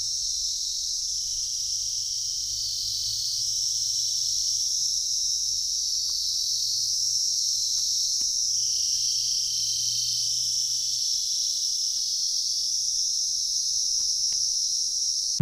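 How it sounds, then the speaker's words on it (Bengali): Crickets chirp in a steady, unbroken high buzz from jungle beside a road in the hills. The sound is loud and close, with a faint low rumble underneath and no talking. "সবসময় একটা ঝিঝি পোকার ডাকের শব্দ শুনতে পাচ্ছি এই পাশের জঙ্গল থেকে"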